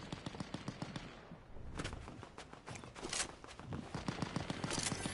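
Rapid bursts of Fortnite gunfire crackle through most of the stretch, dense automatic volleys with a brief lull near the start, fairly loud and continuous without speech.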